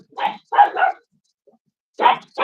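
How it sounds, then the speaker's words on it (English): A pet dog barks in a quick run of three sharp barks, a pause, then two more, loud and close in an otherwise quiet room. "wait, sorry, my dog just freaking out"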